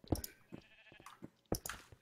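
Sheep bleating in the video game Minecraft, several short blocky calls spread across two seconds, moderately loud with a quiet pause in the middle.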